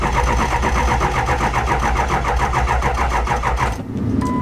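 A Ford F250 with a 7.3 turbo diesel engine cranks on the starter in a steady, loud, rapid rhythmic churn for almost four seconds without catching, then cuts out, leaving a faint hum and a brief tone.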